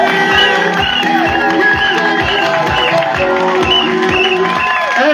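Loud applause and cheering from an audience at a political rally in Akébé Poteau, steady clapping with shouts and whoops throughout, voices mixed into the crowd noise.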